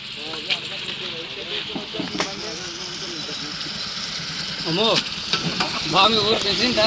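Liver frying in a pan at an outdoor village party in a mango grove, with a steady close hiss and crackle throughout while someone talks over it.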